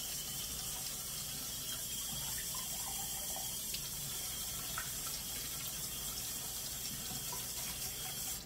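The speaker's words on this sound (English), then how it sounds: "1/2 cup of cold water." Cold water runs steadily from a kitchen tap into a bowl while making strawberry pie, a continuous even rush of flow heard close by and alone.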